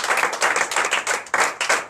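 A church congregation at a night deliverance service in Comè, Benin, claps together in loud, rhythmic bursts, sharp repeated hand claps close by with little speech.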